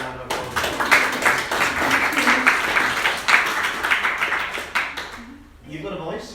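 An audience at a Birdfair 2019 debate gives a lively round of applause, uneven clapping with sharp individual claps, fading out near the end as talk resumes softly.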